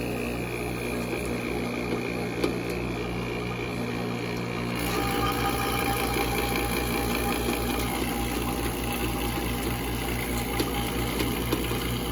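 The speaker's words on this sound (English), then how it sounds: "let's go ahead and get our vacuum started" An HVAC vacuum pump runs with a steady mechanical hum and rapid pulsing drone the whole time, close and even, working alone.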